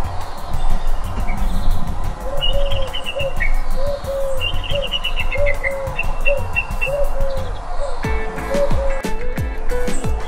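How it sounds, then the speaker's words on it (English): A bald eagle calls outdoors: a series of short, high chirping calls repeats every second or so over a steady background rush, with occasional higher whistled notes from other birds. "It's the bald eagle."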